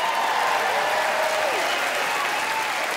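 Steady, dense audience applause fills a stand-up comedy show, loud and continuous with no break from start to end.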